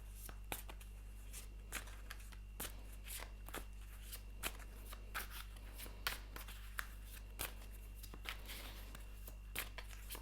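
Tarot cards are shuffled by hand, giving a quiet, steady patter of soft flicks and riffles over a low background hum.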